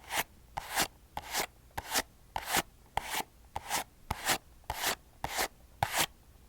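Soft ASMR brushing strokes sweep in a steady rhythm, about a dozen distinct, evenly spaced bristly swishes, close and quiet, with nothing else heard.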